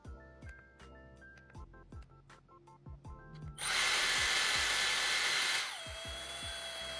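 A Dyson Airstrait hair styler switches on with a loud, steady high-pitched whirring blow for about two seconds, then drops to a softer whine, with short tapping and handling clicks before it.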